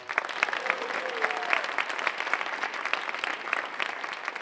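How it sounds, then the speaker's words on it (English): A school assembly audience at Boston Latin Academy applauds teachers and staff, a dense, steady wash of many hands clapping through the whole stretch, with a faint voice briefly audible underneath. "how about we give them a round of applause?"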